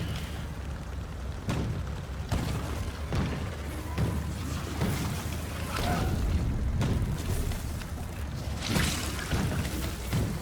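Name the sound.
tank firing explosive shells in the video game Factorio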